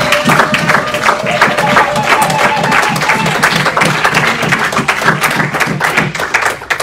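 A church congregation at an evening service in Ottawa claps loudly and rhythmically for several seconds, a dense wash of applause close by with some cheering voices mixed in.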